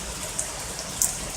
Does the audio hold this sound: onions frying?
no